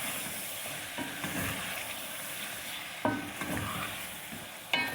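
Chicken pieces sizzle and fry with ginger and garlic in a pan for chicken karahi. A steady, close hiss runs throughout, broken by a few clinks and scrapes as the mixture is stirred.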